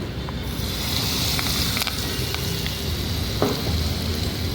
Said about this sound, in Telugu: 4 పావుల నూనె వేసాను. ఎల్లుల్లిపాయలు, జీలకర్ర, ఆవాలు, మినపప్పు, పచ్చెనగపప్పు, ఎండుమిరపకాయలు, కరివేపాకు, కొంచెం ఇంగువ కూడా వేసి తాలింపు పెట్టాను.